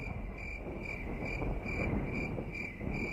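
Crickets chirp steadily as a comedic silence sound effect, a high, pulsing trill repeating in regular bursts over a faint noisy background with no talking.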